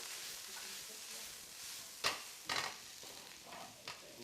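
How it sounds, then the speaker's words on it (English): Vegetables with ginger sizzle in a pan, a soft steady frying hiss broken by a few sharp scraping strokes of a stirring utensil. "Give those a little stir."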